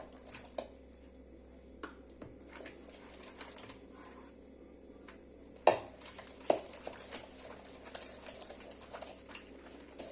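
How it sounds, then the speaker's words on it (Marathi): Ghevar batter is whisked by hand with ice in a bowl, giving faint, irregular clinks and scrapes against the bowl, with a louder cluster of knocks midway and no one talking. "मस्त असं हे आपल्याला साधारण 2 ते 3 मिनिटं फेटून घ्यायचंय।"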